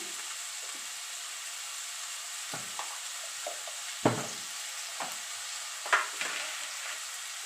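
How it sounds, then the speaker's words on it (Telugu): Onions fry in a pan for a homestyle curry, giving a faint, steady sizzle broken by occasional soft clinks and scrapes of a stirring spoon. "ఆనియన్స్ వేసి కొంచెం బాగా ఫ్రై చేసి"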